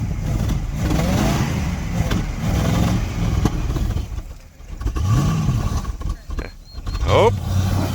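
A 1964 Dodge sedan with a slant-six engine revs hard on its first drive in over 15 years, tires spinning; a loud, close, continuous engine roar rises and falls with voices talking over it.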